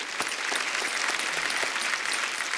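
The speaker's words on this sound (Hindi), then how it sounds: "एक बार जोरदार तालियां दलेर पाजी, सलीम पाजी और ऋचा दीदी के लिए" A television studio audience at a comedy talk show breaks into sustained, dense applause, a steady wash of many hands clapping at full volume throughout with no pauses.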